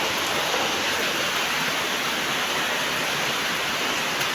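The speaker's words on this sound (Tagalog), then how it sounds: "Ang lakas ng ulan, guys. Grabe, parang bagyo." Heavy rain pours down steadily in a dense, even hiss, loud and close, with no voices over it and no letup.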